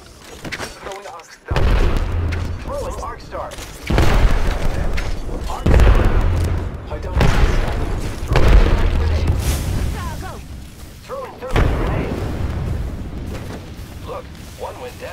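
Heavy booming explosions in a shooter video game, frag grenades among them, several deep blasts spaced a few seconds apart with game voice callouts and talk over them.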